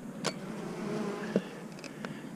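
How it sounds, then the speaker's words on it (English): Bees buzz around a beehive feeder, a soft continuous hum with a few individual insects zipping close by in brief louder passes. "Lots of bees."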